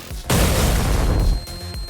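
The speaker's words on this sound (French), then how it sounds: "Une grenade flash." A flash grenade detonates in a French fantasy audio drama: one sudden loud boom that erupts and roars for about a second, then cuts off into quiet background with faint rumbling.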